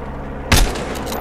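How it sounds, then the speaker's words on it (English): A single loud, sharp gunshot blast from an SMG or PDW in the Battlefield Hardline multiplayer game, a brief burst standing out above steady background game ambience. "I think it's an SMG or a PDW, whatever."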